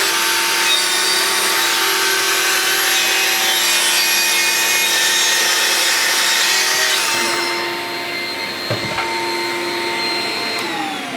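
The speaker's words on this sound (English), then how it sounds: "get the hoover on. Takes the dust away." A hoover vacuum runs to pull sawdust away during woodworking with plunge cuts, a loud, steady roar that lasts the whole stretch and eases slightly in pitch and level partway through, with no talking.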